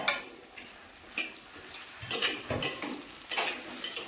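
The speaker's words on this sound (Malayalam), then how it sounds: "നമുക്ക് ഇതിലേക്ക് ഇനിയും ഈ പച്ചമുളകും നമ്മുടെ ഓമയ്ക്കായി ഇട്ട് കൊടുക്കാം, അതായത് പപ്പായ" Green chillies and raw papaya fry in oil in a pan for a Kerala-style curry, with a soft, steady sizzle under intermittent stirring scrapes and clinks of a spoon.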